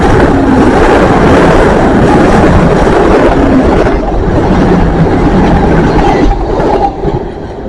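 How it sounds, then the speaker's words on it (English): A CrossCountry train from Plymouth to Edinburgh passes close by on the seaside line at Dawlish, a loud, continuous roar of wheels and clattering carriages that eases slightly toward the end. "I will guess that's the Edinburgh train going to Edinburgh from Plymouth."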